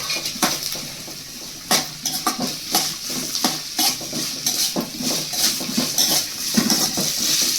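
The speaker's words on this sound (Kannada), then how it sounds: "ಈರುಳ್ಳಿ ಹಾಕ್ಕೊತಾ ಇದ್ದೀನಿ ಈರುಳ್ಳಿ ಕೂಡ ಫ್ರೈ ಮಾಡ್ಕೊತಾ ಇದ್ದೀನಿ" Onions frying in a pan with ginger-garlic paste while being stirred, a steady sizzle broken by repeated scraping clinks of a utensil against metal, close and fairly loud, with no talking.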